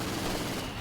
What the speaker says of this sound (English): UC comes in for the heavy MG42 yet again.